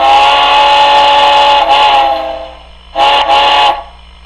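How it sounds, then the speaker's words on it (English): A Hancock Flat Top three-chime steam whistle, as recorded off locomotive 4018 and played through a Tsunami2 model train decoder, sounds two loud, sustained chord blasts: a long first one and a shorter second after a brief pause. "There is the Hancock Flat Top 3 chime recorded off the 4018."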